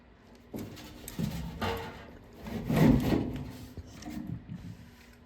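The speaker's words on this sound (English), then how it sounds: "as you push the fan housing back, you have to make sure to bend down a little bit to clear the screws" A furnace blower fan housing is pushed back into place during a blower motor replacement, giving several close rubbing and scraping sounds of metal sliding, with a louder grinding push in the middle.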